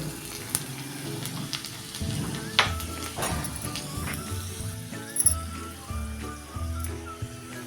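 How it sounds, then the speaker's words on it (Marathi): Hot tempering poured over a South Indian–style red tomato chutney, giving a crackling sizzle with scattered pops and clinks of the pan, heard close with no voices over it. "ही गरमागरम फोडणी आपली तयार झाली आहे ती आता आपण चटणीवर ओतून घ्यायची आहे"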